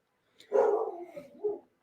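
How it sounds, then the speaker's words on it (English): A dog gives a single drawn-out bark alone in a quiet room, with no talking. "He barking at nothing."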